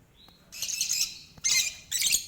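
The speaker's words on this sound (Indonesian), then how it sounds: "jenis Lovebird Indonesia alias non-pet Green" Indonesian lovebird chirping in short bursts of high, harsh twittering calls, close and fairly loud, three clusters over a couple of seconds with quiet gaps.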